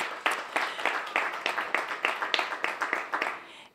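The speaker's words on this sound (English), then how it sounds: "give him a big round of applause" Scattered applause at a Washington, D.C. mayoral event, a small group clapping in distinct bursts for the Deputy Mayor for Education, fairly quiet and near.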